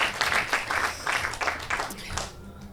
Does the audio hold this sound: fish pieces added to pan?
no